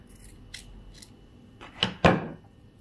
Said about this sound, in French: Je vais couper ce petit bout là.